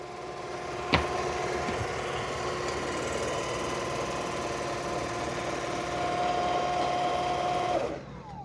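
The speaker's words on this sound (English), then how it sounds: "here it comes back to the base station and it's going to auto empty" An Ecovacs Deebot N20 Plus robot vacuum runs with a steady motor whir and faint high tonal hum as it rolls back to its base station, a sharp knock early on, sound cutting off at the end.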